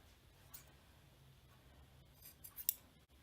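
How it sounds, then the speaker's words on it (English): Scissors trim excess yarn ends from tied knots on a craft piece, making faint, quiet snips, with a soft one early and a small cluster of crisp cuts near the end. "I'm just gonna go back and trim off all of the excess yarn"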